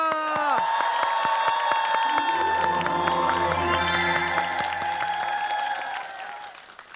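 A studio audience claps loudly and steadily for a dialect contest team on a Korean TV show, with sustained applause that fades slightly toward the end, and musical tones ring underneath.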